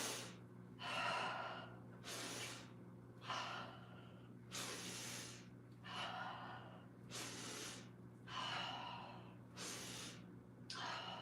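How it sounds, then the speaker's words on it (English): Deep, deliberate breathing exercise during a stretch and wellness routine: a series of about eight audible inhale-exhale cycles, airy and rhythmic, repeating every second or so over a steady low hum, with no speech. "we're gonna do some special breathing."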